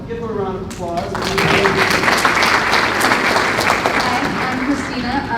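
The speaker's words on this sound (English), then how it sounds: "Give her a round of applause." Audience applause at an overdose awareness summit, a dense burst of clapping that rises quickly and holds steady, with a voice speaking over the start.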